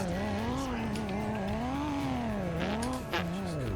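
Car driving in the Roblox video game, a steady engine drone with rising and falling pitch as the vehicle speeds up and slows, loud and continuous, with a brief dip near the end.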